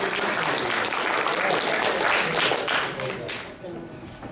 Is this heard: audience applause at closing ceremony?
yes